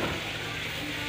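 Onions sautéing in butter in a pan, heard as a brief, soft, steady sizzle close by with no talking.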